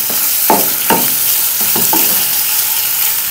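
Boneless chicken frying with garlic in ghee in a pan, a steady close sizzle with a few scraping stirs of a spoon through it.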